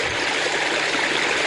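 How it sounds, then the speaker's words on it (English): Water in swales runs steadily into recycling ponds, a broad, constant rushing flow that stays close and even, with no voices over it. "These swales are all designed so that the water from that side and that side flow into the middle, and it all flows down into our recycling ponds."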